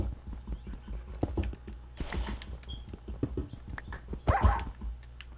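A dog barks in Minecraft on PS4, short sharp yaps standing out over clicky footsteps and game sounds, with two louder bursts partway through and near the end.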